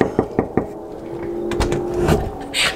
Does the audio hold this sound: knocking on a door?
yes